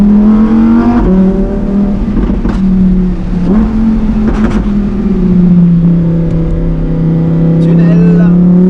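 Lamborghini Huracan Performante S engine heard from inside the car, a loud, sustained drone that rises and falls through revs and shifts, with a voice speaking intermittently over it.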